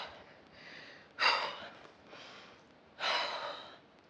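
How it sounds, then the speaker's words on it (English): Deep breaths drawn into the belly during a workout: two strong, close breaths with softer exhales between them, loud and near, with no talk over them. "So nice big breath into the belly."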